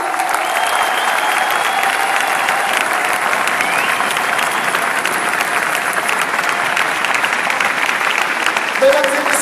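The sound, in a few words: audience applause for the YouFit inventor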